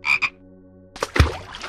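Two short, loud frog croaks ring out close by, followed after a pause of low hum by a rougher, deeper croaking burst.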